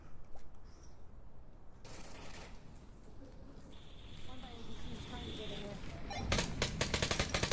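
Gunfire in the VR shooter game Onward, a run of sharp shots with a dense rapid burst near the end, heard through continuous background noise, with people talking over it.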